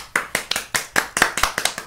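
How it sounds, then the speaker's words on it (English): Two people clap at close range during a livestreamed gaming marathon, quick uneven sharp claps with no other sound between them. "The two people applauding."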